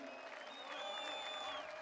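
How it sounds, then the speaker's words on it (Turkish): Faint, steady applause from a large outdoor political rally crowd in Gaziantep clapping for retirees, with thin whistle-like tones drifting over the continuous patter. "emeklilere bir alkış"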